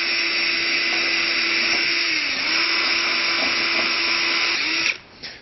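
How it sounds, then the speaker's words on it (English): A drill spinning a wire brush scrubs an automatic transmission pan from a Passat, a loud, steady whirring grind with a constant motor hum that runs unbroken before cutting off near the end. "we have just a wire brush and our drill. And we are going to take that and knock off the excess junk"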